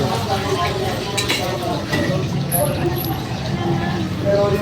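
Steady kitchen clatter while a customer's order cooks: continuous sizzling and stirring with scraping of utensils on pans and clinks of dishes, dense and close, with people talking underneath throughout.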